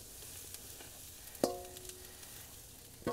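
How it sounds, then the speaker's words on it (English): Spring vegetables hiss softly on a moderate 350-degree grill, a low steady sizzle with a few sharp clinks of a utensil against the grate, quiet and close. "you can hear them sizzle when they hit it"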